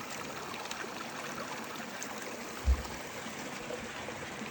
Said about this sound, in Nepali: यहाँबाट पानी आउँछ।